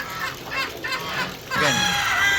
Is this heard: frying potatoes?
no